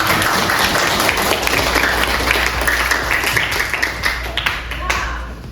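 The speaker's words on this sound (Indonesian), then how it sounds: "beri tepuk buat semuanya" Schoolchildren in a classroom lesson clap together for everyone, a loud, sustained burst of hand clapping with some chatter that tapers off toward the end.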